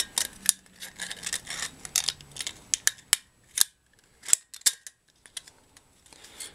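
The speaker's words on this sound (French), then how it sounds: "Vous mettez un coup de ciseau." Scissors snip an aluminium strip while an ashtray is being made, giving a series of sharp, close metallic clicks and cuts in irregular bursts against a quiet background.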